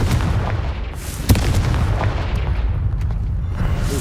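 A Confringo spell bursts with a sharp, booming blast in Hogwarts Legacy, a single loud hit near the middle standing out over a constant rumbling game backdrop.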